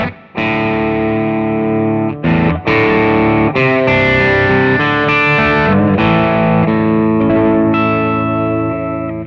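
Electric guitar played through a Nobels ODR Mini 2 overdrive pedal with the bass cut, giving sustained distorted chords and notes that ring loud and close, with brief breaks between phrases.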